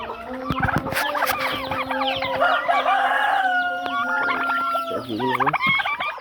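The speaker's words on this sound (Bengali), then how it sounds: "দেশি মুরগি" Native country chickens cluck busily in a poultry farm shed while a rooster crows loudly nearby. Overlapping calls are close and dense throughout.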